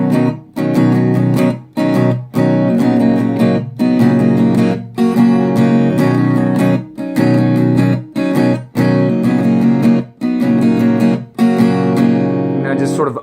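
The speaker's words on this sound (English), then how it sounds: "So it kind of sounds like this as we're playing the actual chorus." An electric guitar strums a song's chorus, loud, full chords broken by regular muted choppy stops about every second and a half, steady and close.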